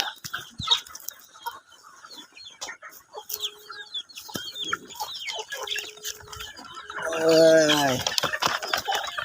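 Chickens cluck close by as they are fed outdoors in the evening, with a burst of louder, busier clucking near the end and brief talk in between.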